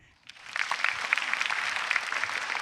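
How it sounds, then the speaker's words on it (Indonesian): Studio audience applauding on an Indonesian TV comedy show, rising from near silence into steady, dense clapping with scattered sharper claps that holds to the end. "Tepuk tangan yuk."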